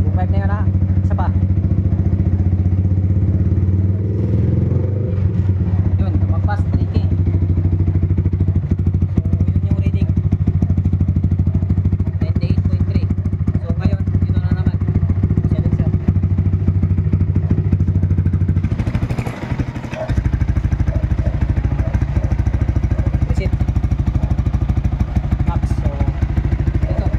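A motorcycle engine runs steadily at close range with a droning hum that briefly dips near the end before resuming, while people talk beneath it.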